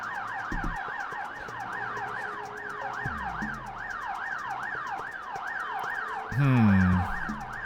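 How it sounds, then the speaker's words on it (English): Wailing police and ambulance sirens in The Getaway video game, a steady rising and falling siren cycling continuously at moderate loudness, with a few engine and impact sounds and a louder burst near the end. "Hope you're not sick of hearing sirens yet,"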